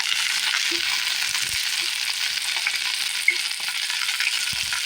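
Ajwain leaves and curry leaves frying in a pan, a steady close sizzle with a few soft stirring knocks scattered through, no talk.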